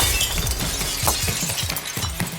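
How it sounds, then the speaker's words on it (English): Glass window shattering as a pursuing creature smashes through it during a chase, a loud burst of breaking and clinking shards filling the whole moment with repeated crunchy impacts. "one of them smashes through the glass behind you"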